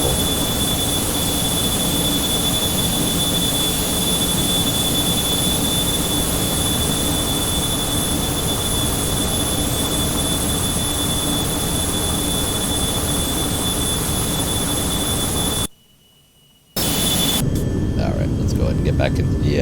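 A Carenado Premier 1A business jet in the Prepar3d flight simulator drones with a loud, steady cabin engine roar and a high whine throughout, cut by a brief second-long silence near the end. A voice talks over it.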